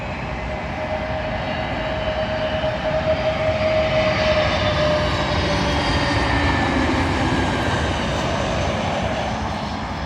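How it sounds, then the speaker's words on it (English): A British Airways A320neo airliner landing at London Heathrow, a loud sustained jet engine roar with a high whine, steady and close from start to finish with no talking. "Arriving in now is British Airways A320neo from Basel to London Heathrow."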